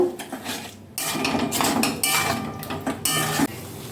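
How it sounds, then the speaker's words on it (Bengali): Chicken with spice masala is stirred hard in a pan, a metal spatula clanking and scraping against the pan in uneven bursts, loud and close, with sizzling underneath. "চিকেনটা ভালো করে কষিয়ে নেব।"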